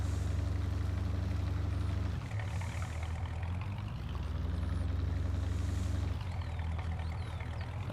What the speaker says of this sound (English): I'm sure golf carts don't normally sound like this